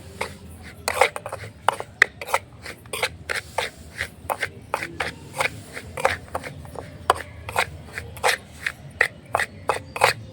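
A utensil stirs and scrapes semolina in a tiny toy-kitchen pan, a quick series of light scraping strokes in an uneven rhythm, close and fairly quiet against a soft background.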